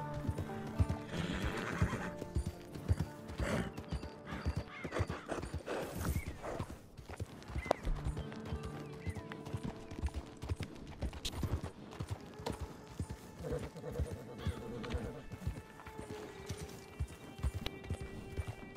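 Horse in the Red Dead Redemption 2 video game galloping with steady clip-clop hoofbeats and repeated neighs and whinnies, clear and up close throughout with no talking.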